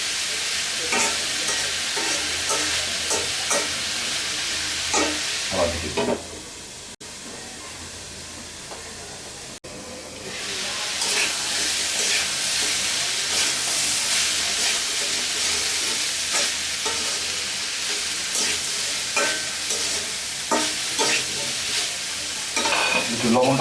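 Pumpkin slices with nigella seeds frying in a pan, a loud continuous sizzle with close scraping stirs, fading briefly to a quieter hiss midway before the sizzle and spatula scrapes return strongly, with no talking.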